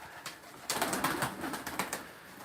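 A domestic pigeon, a smoky spotted mirror-tail bird, coos softly in a series of quick pulsing notes over faint background hiss, with no one speaking.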